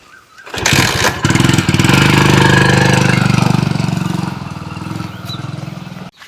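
A motor vehicle engine revs up loudly and runs steadily, staying strong for several seconds before tapering off as it pulls away, with no voices over it.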